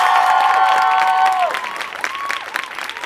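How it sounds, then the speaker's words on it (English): A studio audience applauds at a talk-show interview with a musician, a dense wash of clapping heard together with sustained musical tones that glide down and fade, the clapping then thinning out toward the end. "Please give him another round of applause."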